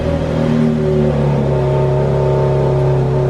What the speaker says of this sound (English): why not fire it up? Remember, it's a cold start